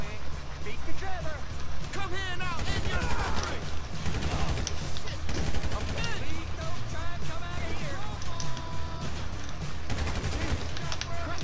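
Rapid gunfire from a firefight in the video game GTA 5, dense bursts of shots crackling over ongoing game noise throughout, with a voice speaking over parts of it.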